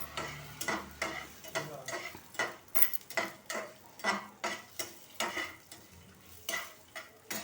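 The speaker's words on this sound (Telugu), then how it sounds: "ఇప్పుడు ఈ పోపు వేగిపోతుంది, పోపు వేగిక చూపిస్తాను." Tempering spices, curry leaves and curd chillies sizzling in a pan, heard close up as a steady frying hiss broken by a regular series of sharp stirring clacks, roughly one or two per second, with no voices.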